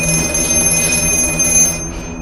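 An old telephone rings in a horror film scene, a continuous shrill bell tone that holds loud, then cuts off abruptly near the end.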